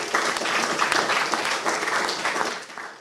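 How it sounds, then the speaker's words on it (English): Steady, dense audience applause at a hackathon award ceremony after student pitches, a continuous wash of many hands clapping that holds evenly and then tapers slightly at the end, with no voices over it. "another round of applause"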